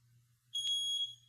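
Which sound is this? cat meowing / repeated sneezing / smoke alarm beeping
smoke alarm beeping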